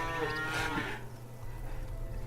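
Cows in the Farmer's Dynasty farming game moo in a long, loud, harmonic call that fades after about a second, over steady low engine-like game ambience.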